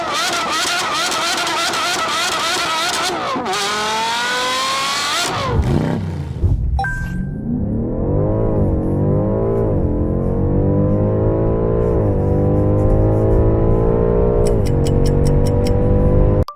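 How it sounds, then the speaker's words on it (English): A BMW M5 F90 on launch control: loud engine revving that climbs and falls in pitch, breaks off, then picks up again as a deep rising roar with stuttering pops near the end. No one speaks. "It's the BMW M5 F90."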